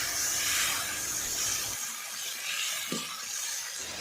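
Ginger paste and chopped tomato go into hot oil with whole garam masala for a bottle gourd curry, giving a loud hissing sizzle that drops suddenly to a quieter crackle with one brief scrape.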